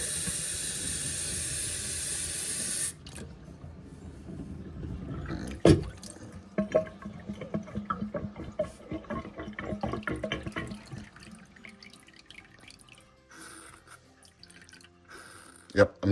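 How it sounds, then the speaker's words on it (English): Water forced with a bulb syringe through the grip section of a Diplomat Viper fountain pen gives a steady close hiss for a few seconds, then gives way to quieter trickles, drips and small clicks. "force some fresh water through this grip"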